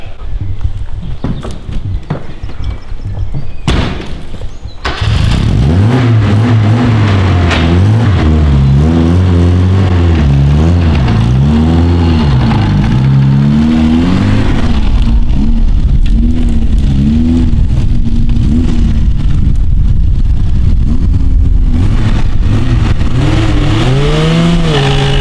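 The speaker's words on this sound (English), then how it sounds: "Spin the wheels for the longest." Reliant Robin three-wheeler doing a wheelspin burnout: after a few seconds of scuffling, a loud, close engine kicks in and revs hard, its pitch rising and wavering continuously as the wheels spin for about twenty seconds.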